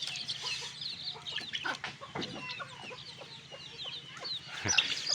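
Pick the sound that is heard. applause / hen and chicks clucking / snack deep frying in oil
hen and chicks clucking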